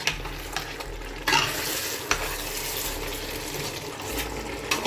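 Fried plantain is stirred into a pot of Cameroonian poulet DG, a loud steady sizzle with occasional clacks and scrapes of the spoon against the pot.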